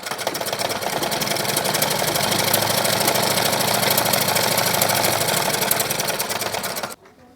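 A sewing machine runs steadily, stitching blouse fabric along a neckline, a loud continuous whirring drone for about seven seconds that stops abruptly at the end.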